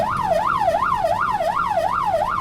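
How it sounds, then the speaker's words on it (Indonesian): An ambulance siren wails steadily in a rising and falling pattern, loud and close, with no voices. "ketika dengar ambulan ini dari jauh"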